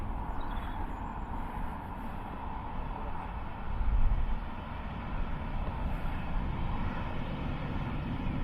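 A Ryanair Boeing 737-800 jet at Dublin Airport produces a steady, broad engine roar that swells slightly midway, distant and continuous with no talking.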